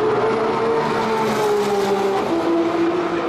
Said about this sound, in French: j'aime beaucoup le bruit du mono turbo de cette voiture